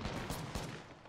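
Rapid gunfire rings out in Apex Legends, a dense burst of loud shots with sharp repeated cracks over the whole moment.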